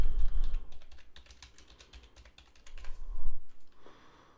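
Fingers tap out a project name on a computer keyboard, a close run of quick, irregular key clicks with a few heavier thumps, no voices.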